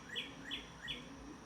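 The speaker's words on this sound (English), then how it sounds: "We have a vast abundance of songbirds and squirrels." Songbirds in a backyard near a house, three bright, evenly spaced chirps rising over a low outdoor hum, fairly close and with no talk.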